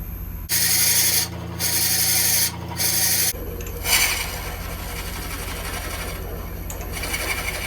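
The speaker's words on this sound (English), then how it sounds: "Now we've gone back to our 1 1/16 inch Forstner bit with our extension to drill all the way through until we meet our first hole." A 1 1/16 inch Forstner bit on an extension bores through butternut wood on a lathe for a pepper grinder, a loud, rough grinding roar in several close bursts with short pauses, then a steadier, quieter churn.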